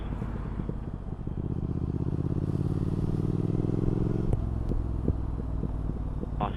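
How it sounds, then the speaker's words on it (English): A Triumph Speed Twin motorcycle riding through the New Forest, its exhaust running steadily before rolling off the throttle into a string of sharp pops and gargling crackles, close and loud with no talking. "Another amazing thing about the bike is the exhaust note when you roll off the gas."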